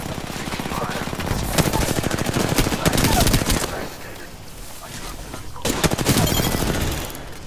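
Automatic gunfire rattles in the battle royale video game Apex Legends, dense rapid bursts that are loud and sustained, briefly easing before resuming.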